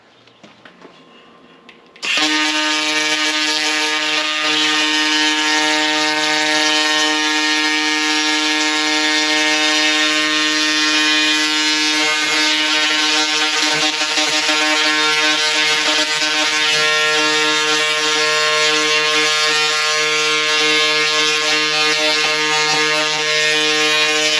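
A laser cleaning machine stripping rust, paint, oil and grease switches on after a quiet start into a loud, steady, high-pitched electric whine and buzz. The whine holds unbroken for over twenty seconds with faint crackling from the surface.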